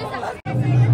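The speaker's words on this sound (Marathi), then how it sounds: "शेट्टी गल्लीत तर पॉवरफुल गर्दी झाली" Large crowd chattering in a packed lane during a Ganpati festival, a dense near wash of many overlapping voices with a brief gap in the middle.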